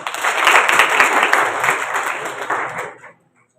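An audience at a school science festival in Haridas gives sustained applause for the winning child scientists, dense and loud clapping that cuts off abruptly into silence.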